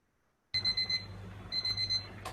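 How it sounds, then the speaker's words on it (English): A kitchen timer alarm sounds while bagels bake, a shrill electronic beeping that starts abruptly after a brief silence and repeats in close, insistent bursts. "when your timer goes off"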